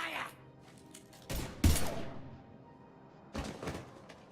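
Gunfire in the video game Mass Effect 3 comes as a few sharp, booming bursts separated by short pauses, with a low background hum between shots.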